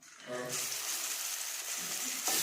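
Ground lentils roasting in oil hiss into a steady, moderately loud sizzle after a brief quieter start, with a stirring scrape and a small burst at the end.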